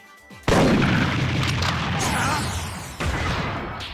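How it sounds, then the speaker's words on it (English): A huge video-game blast as a shotgun sets off a cluster of gas canisters, a loud booming explosion with a rumbling tail, then a second heavy bang about midway through, no talking. "he uses a shotgun to detonate all of the gas canisters, causing, well, a giant big bad explosion"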